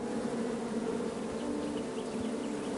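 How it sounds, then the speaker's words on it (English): A steady, close swarm of bees drones from a beehive in the video game Knight's Quest, a continuous buzzing hum that holds evenly throughout with no voices over it. "Bees! I ruined the bees' day and that lovely meal."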